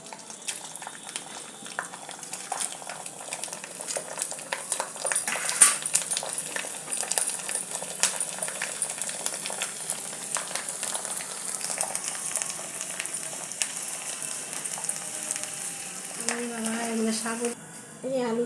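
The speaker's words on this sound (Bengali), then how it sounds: "এই আলুর চিপস, দেখুন আলুর চিপস ভাজা হয়ে গেছে আমার" Potato chips for homemade chanachur fry in hot oil, a continuous fine crackling sizzle with scattered pops heard close for a long stretch, with a brief clink near the end.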